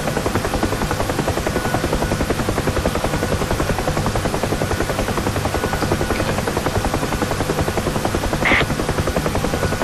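A helicopter flies continuously in Digital Combat Simulator during a descending landing approach, its loud, steady rotor chop and turbine drone filling the whole stretch, with no talking.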